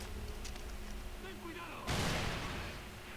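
Explosions rumble in a video game played on an RX 570 8GB graphics card. A dense, steady roar of gunfire and blasts runs throughout, and one louder, broader explosion bursts midway and lingers.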